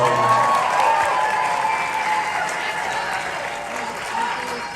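A concert crowd at The Town Hall, New York City, at a show, claps and cheers continuously, a dense wash of applause with scattered whoops, fairly loud and sustained throughout.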